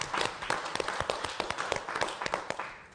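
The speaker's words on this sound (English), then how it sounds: "Let's give ourselves a round of applause" Scattered applause from a conference audience at the Mackinac Policy Conference, a steady run of distinct, fairly close claps lasting a few seconds without a big crowd roar.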